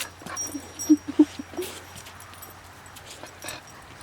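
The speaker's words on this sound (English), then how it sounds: "She is the very sweet dog at our Airbnb." Maisie, a sweet herding dog at a rental house, whimpers and yips softly in a few short, faint squeaks in quick succession, set against a quiet outdoor background with no one speaking.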